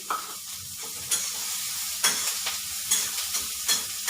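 Ingredients for bread upma sizzle gently in a pan while being stirred, with soft frying hiss and a few sharper scraping clacks of the spoon at irregular intervals, close and steady without talk.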